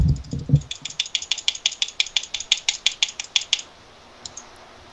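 Rapid, evenly spaced clicks of a computer keyboard and mouse during gaming, about fifteen crisp keystrokes in a steady run, close and clear, with a few heavier knocks at the start and two soft taps after a pause.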